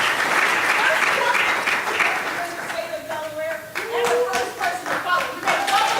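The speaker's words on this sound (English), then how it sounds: "Let's give another big round of applause." Audience at a National Urban League legislative conference applauding a congresswoman from Delaware; loud, sustained clapping that swells then thins, with cheering voices and talk mixed in underneath.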